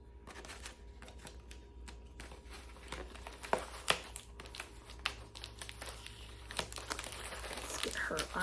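Shipping packaging around a mail-order plant crinkles and tears as it is unwrapped, a steady close run of rustling plastic and paper with sharper crackles, under quiet background talk.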